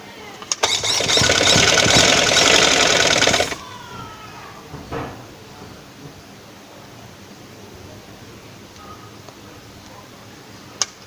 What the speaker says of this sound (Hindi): बिल्कुल सीधी सिलाई लगा लेनी है